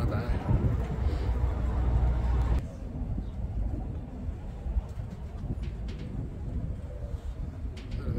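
Pigeons coo softly amid a loft's background noise and rustling, with a louder low rumble at the start that drops away.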